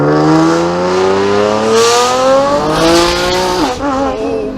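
A 1400 whp Nissan GT-R accelerating hard on the street, its engine note climbing loudly through the gears with a brief shift break near the end, close and dominant from inside the car.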